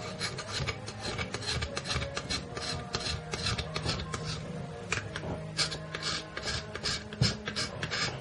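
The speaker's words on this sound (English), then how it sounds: "you can have years of graphite lubrication by just shaving into your 3-in-1 oil raw graphite" A raw graphite rod is shaved into 3-in-1 oil, giving a steady close rhythmic rasping and scraping that keeps going without a break, and no one speaks.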